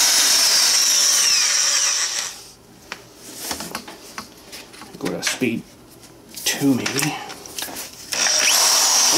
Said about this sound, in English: Hopefully this is going to drill all right.